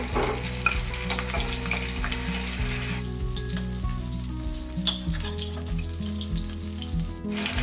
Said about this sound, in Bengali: এগুলোকে উল্টে পাল্টে কেমন ভাজা হয়ে গেল